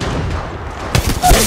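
Gunfire in the mobile shooter Apex Legends Mobile, a short burst of shots cracking loud and close over a dense game soundscape, with a heavier blast near the end.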